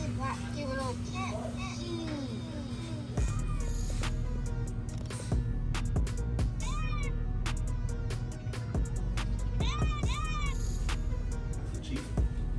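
Small cat meowing repeatedly, short plaintive mews in several bursts inside a vehicle at a park, close and clear over road rumble, with people chatting nearby.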